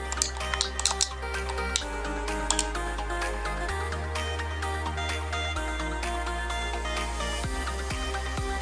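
Computer keyboard typing for a chat message during an online game, a steady run of quick key clicks heard under loud continuous game music with sound effects.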